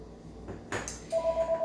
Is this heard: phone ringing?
yes